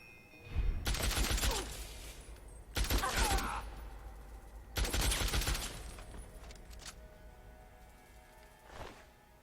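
Three loud bursts of 5.56 rifle fire in Fallout 3, each a rapid string of shots lasting about a second, followed by fading echoes and a faint final shot near the end.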